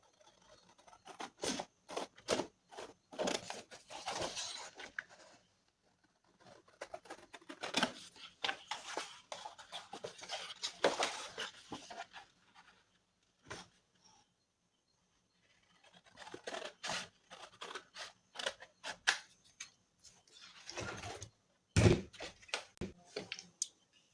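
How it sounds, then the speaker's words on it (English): Scissors cutting out a printed paper journal page, producing repeated close crisp snips and paper rustles in bursts separated by short quiet pauses, with one sharper knock near the end and no talking. "And then we're going to cut this out."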